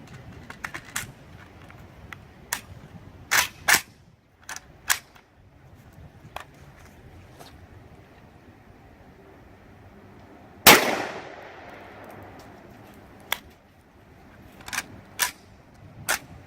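A 7.62x39 124 grain ball round fired at a steel plate outdoors, one sharp loud crack with a ringing decay, amid scattered distant shots and faint clicks at a shooting range.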